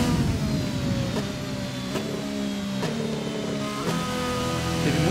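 Renault Formula 1 engine in the racing game F1 2020, heard from the onboard view in heavy rain, a steady loud high-pitched whine rising and falling through gear changes and downshifts, with no talk.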